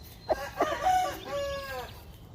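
A rooster crows once, fairly close: a couple of short clucks lead into a drawn-out, wavering cock-a-doodle-doo that fades after about two seconds.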